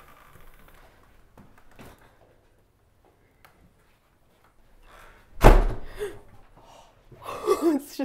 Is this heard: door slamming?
yes